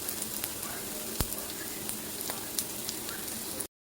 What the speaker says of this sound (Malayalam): ഇനി നമുക്ക് മോരൊഴിച്ച് കൊടുക്കാം.